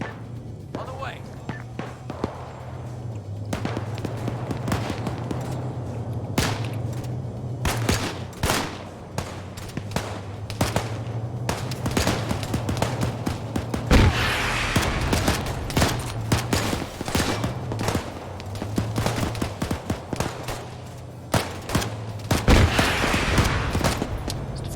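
Sustained gunfire in an infantry-focused tactical video game, with bursts of automatic fire and sharp single shots cracking near and far over a low engine-like hum, while players talk throughout.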